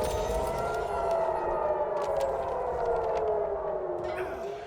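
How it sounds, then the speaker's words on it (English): Several wailing air raid sirens across Israel during Iranian airstrikes rise and fall together in a steady, loud drone, sounding from a distance across an open area. "Sirens have been sounding right across Israel after the latest wave of airstrikes launched from Iran."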